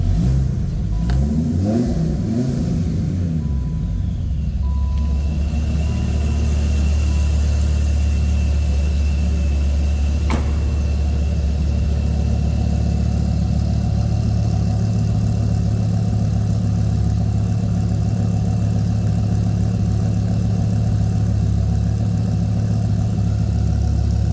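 A 2001 Dodge Viper GTS supercharged coupe idles just after a cold start: a loud, close, deep engine rumble that shifts unevenly for a few seconds, then settles into a steady, throbbing idle.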